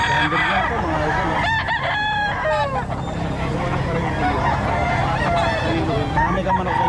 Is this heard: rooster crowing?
yes